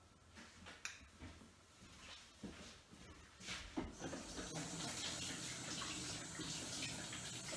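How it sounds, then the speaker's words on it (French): Hands rinsed under a running kitchen tap, with water splashing in uneven bursts before settling into a steady, fairly quiet stream. "Je vais me rincer les mains"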